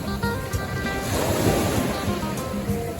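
Sea waves washing ashore at Bang Saen beach, a continuous close rushing surge of surf with some wind buffeting the microphone, steady and fairly loud throughout.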